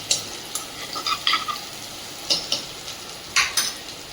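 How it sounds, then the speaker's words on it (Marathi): Chopped onions and a single green chilli sautéing in oil for moong dal khichdi, a soft low sizzle broken by a few sharp spoon clinks and scrapes against the pan, close up with no talking. "बारीक केलेले कांदे हे गुलाबी हलका रंग येऊपर्यंत आपण परतून घेऊया"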